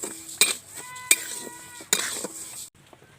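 Sugar being stirred in a hot pan as it melts toward caramel, with sharp metallic utensil clinks against the pan separated by quieter scraping, plus faint tonal ringing between the strikes.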